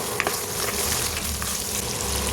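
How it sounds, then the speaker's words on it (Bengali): Ginger frying in hot oil in a pan, a steady close sizzle and crackle with no talk. "ভালো করে আদা কষিয়ে নিলাম 4-5 মিনিটের মতো।"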